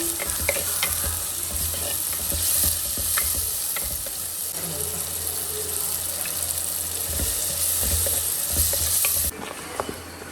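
Cow tongue fries in a pan with onion and salt, giving a steady, close sizzle throughout with scattered scraping clicks from stirring, and no talking.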